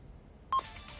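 A telephone gives a single short, clear dialing beep that cuts into a quiet background, followed by a low, noisy tail.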